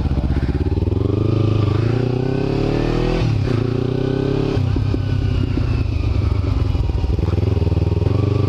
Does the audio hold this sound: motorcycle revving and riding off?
yes